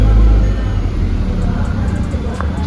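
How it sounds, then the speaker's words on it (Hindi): A Skoda Octavia vRS fitted with a Milltek exhaust runs with a loud, deep, continuous exhaust rumble right up close, steady throughout with no talking. "अभी हम स्टार्ट करके देखते हैं हाउ द कार साउंड्स"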